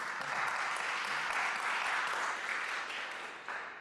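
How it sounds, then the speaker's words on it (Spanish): Audience applauding in a hall of the Museo de Bellas Artes during a talk, a dense, steady clapping that swells and then slowly tapers toward the end. "colás Sánchez de la Universidad de Valencia, a quien recibamos con un aplauso afectuoso aquí en la sala del Museo de Bellas Artes."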